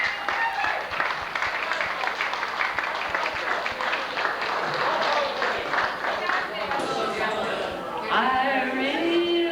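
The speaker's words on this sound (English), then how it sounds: "Give a big round of applause, ladies and gentlemen." Audience applause at the Old Ground Hotel in Ennis during a recitation evening: a steady wash of clapping that runs the whole stretch, with crowd chatter and voices mixed in and rising toward the end.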